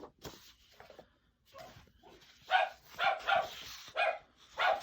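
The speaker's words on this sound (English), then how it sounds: "Anyone want some yippy dogs?" Small yippy dogs bark indoors in quick, sharp yaps, a few scattered at first and then a rapid cluster of repeated barks, moderately near.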